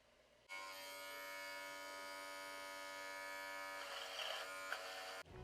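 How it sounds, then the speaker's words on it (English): An electric shaver runs steadily as a beard comes off, a close, constant buzzing drone with a rough, grainy edge as the cutter works through the hair, then it cuts off near the end. "I decided to shave it off today"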